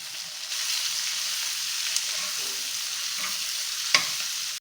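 Onion, tomato and coriander fry in a kadai with a steady, close sizzle, broken by a couple of brief scraping stirs.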